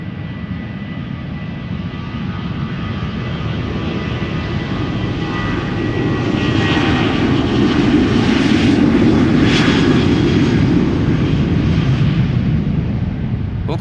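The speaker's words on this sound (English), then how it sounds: "Next up, KLM outbound Copenhagen, flight 1127." A KLM airliner bound for Copenhagen takes off from Schiphol Airport, its engines roaring steadily and building to a loud peak before easing slightly, heard from a distance with no talking.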